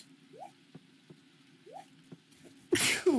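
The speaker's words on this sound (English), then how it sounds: "I sneezed" A single sharp sneeze bursts out near the end, loud and close, after a stretch of quiet with faint small clicks and drips.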